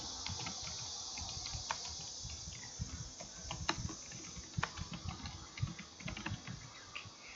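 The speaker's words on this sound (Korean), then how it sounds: "항목을 내릴 때는 키보드 엔터키를 눌러주시면 되겠죠." Rapid, uneven clicking of computer keys being typed, close and fairly quiet, with irregular bursts and short pauses and no talking.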